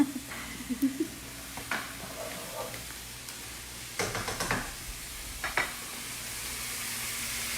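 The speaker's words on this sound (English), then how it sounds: "So when it sautés really nicely, the onions get like a sweet flavor" Onions sautéing in a pan while making keto meatloaf: a low, steady sizzle with scattered stirring scrapes and a few louder clatters, heard fairly close.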